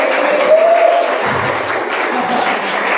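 Steady applause from a crowd at an Islamic religious gathering fills the whole stretch, a dense, even patter of many hands clapping at a constant level.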